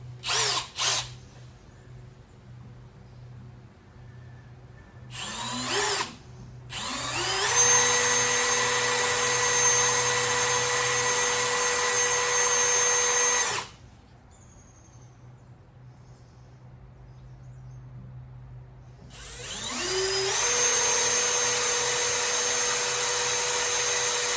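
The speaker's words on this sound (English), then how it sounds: "take a drill bit" A power drill with a drill bit whines loudly in two long, steady runs with a quieter pause between them, close up, after a couple of short trigger bursts, working on a 1988 Club Car DS golf cart.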